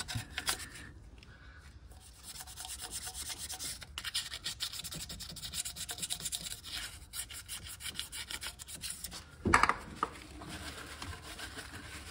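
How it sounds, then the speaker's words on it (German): Steady fine rubbing and scraping of 600-grit sandpaper on a BMW E30 cooling system part, a light sanding texture continuing throughout with a brief louder knock near the end. "Ich benutze noch etwas feines Schleifpapier, 600er."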